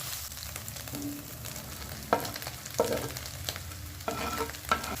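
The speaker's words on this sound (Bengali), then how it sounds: "এবার সমস্ত উপকরণ এক মিনিট নাড়াচাড়া করে নেব হাই ফ্লেমে" Carrots, chilli and cabbage stir-fried on high flame for a home-style chicken soup, with a steady low sizzle and intermittent scraping and clattering stirs of the spatula, close and alone without talk.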